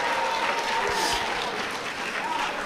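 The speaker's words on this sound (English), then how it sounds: "Give her a round of applause." Applause at a middle school assembly for the Teacher of the Year, a continuous, full crowd clapping sound filling the room, with voices mixed in underneath.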